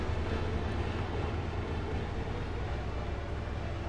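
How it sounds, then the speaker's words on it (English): A helicopter passing directly over a house, a steady, loud low rumble of rotor and engine that fills the whole stretch without letup. "Thank you, helicopter. He, like, flies directly above my house."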